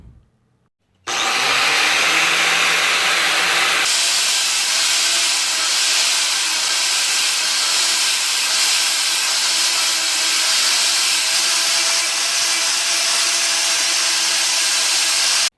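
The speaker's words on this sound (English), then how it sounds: "So that was with the brass wire wheel and the angle grinder." An angle grinder fitted with a brass wire wheel brushing rustic barn wood, starting after a moment of quiet and then a loud, steady high whine with abrasive scrubbing that shifts slightly in pitch.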